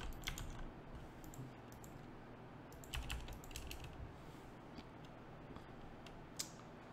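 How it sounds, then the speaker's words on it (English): Clicky computer keyboard typing in a quiet room, a steady patter of light keystrokes with a few louder bursts of quick strokes, close and fairly soft, no voices. "Let's use the keyboard."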